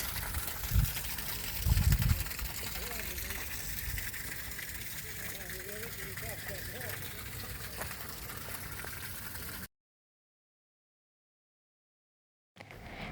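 Water from a spring beside a hilltop castle flows in a steady soft gush, with a couple of brief louder splashes early on, then cuts out into silence before briefly returning.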